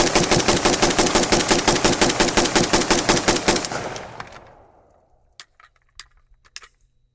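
A Palmetto State Armory RPK in 7.62 fires a rapid automatic burst of about twenty loud, closely spaced shots, then cuts off, leaving a fading echo and a few faint clinks.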